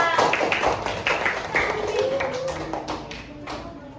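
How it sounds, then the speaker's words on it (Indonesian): Scattered hand clapping from a small group of students in a classroom, uneven and close, with people talking over it. "Kasih tepuk tangan untuk Bila."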